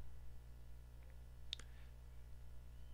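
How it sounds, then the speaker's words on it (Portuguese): A computer mouse gives a crisp double click, sharp and close but faint, followed by a softer tick against a low steady hum, with no talking. "vou clicar com o botão direito"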